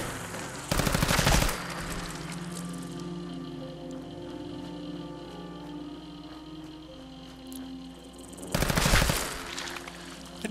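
Two short, loud bursts of rapid automatic gunfire in Fallout 4, one near the start and one near the end, separated by a quiet stretch of low humming ambience.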